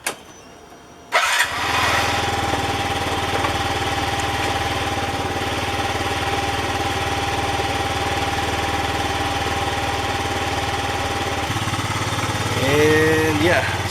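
A Yamaha C3 scooter engine cranks and catches, then idles steadily and close up for over ten seconds, with a brief change in pitch near the end.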